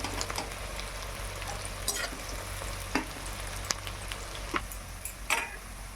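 Sliced onions crackle and sizzle in very hot oil as they fry down into crisp birista for mutton biryani, a steady fine hiss broken by small sharp pops and occasional stirring clicks.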